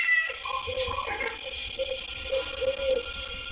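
A cat's meow played as a sound effect during a tabletop role-playing game session, with several drawn-out, wavering cries over quiet background hiss, fairly clear and close.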